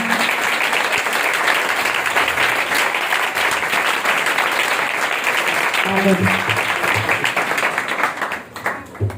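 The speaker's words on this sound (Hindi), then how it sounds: "जोरदार तालियां बहुत ही।" Loud, continuous applause from a church congregation in Pakistan keeps up at full strength, then tapers off toward the end as a few voices come through.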